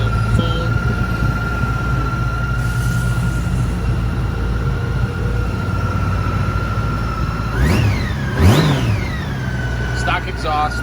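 A 2015 Honda Goldwing GL1800 trike with a Motor Trike Kit and stock exhaust runs at a quiet, steady idle, then revs up twice in short rising swells before settling back.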